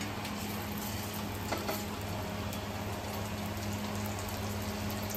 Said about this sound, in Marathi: हा आता आम्ही इथे ना थोडेसे फ्राय करून घेतो